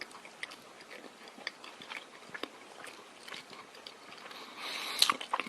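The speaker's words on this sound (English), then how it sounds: "Take a bite." Someone bites into and chews fresh, warm food: faint, close, soft squishy chewing with small crunches and breaths, building to a louder bite near the end, with no talking.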